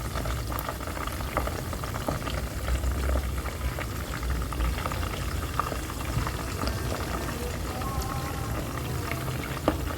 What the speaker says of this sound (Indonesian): Hujannya udah turun.